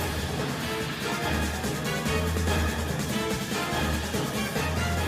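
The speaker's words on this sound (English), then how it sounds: "they changed the Snowy Mountains theme again to an arena battle theme instead," Arena battle theme from the Western release of the video game Freedom Unite, a driving orchestral track with a repeating bass pattern and dense percussion, loud and steady from start to finish with no talking.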